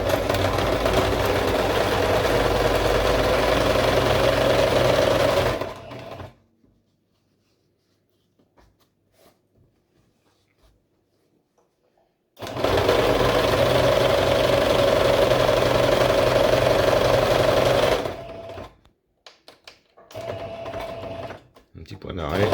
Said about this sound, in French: Et on fait la grande couture du bas, donc on suit le trait.